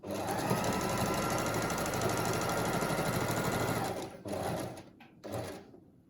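A home sewing machine runs steadily stitching a fabric face mask, a dense continuous whir for about four seconds, then stops and restarts in two brief bursts.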